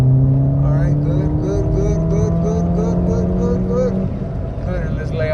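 A Ford Fiesta ST running an E30 tune accelerates hard, engine note climbing steadily in pitch with a whistling whine over it, loud and close from inside the car before easing off near the end.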